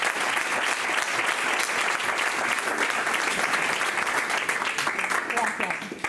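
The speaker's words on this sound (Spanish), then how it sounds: "Un aplauso." Sustained audience applause at a republican gathering at the Ateneo de Madrid, dense and even throughout before tapering slightly at the end.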